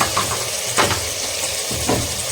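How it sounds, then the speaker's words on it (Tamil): Tomato, ginger and garlic paste sautés loudly in a pan over high flame for a vegetable biryani, with a steady close sizzle and a few stirring scrapes, no voices. "தக்காளி இஞ்சி பூண்டு பேஸ்ட்டு நல்லா வதங்கட்டுங்க"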